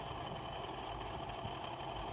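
A bore well motor machine runs steadily with a continuous mid-pitched engine-like hum and vibration, close and even throughout, with no voices.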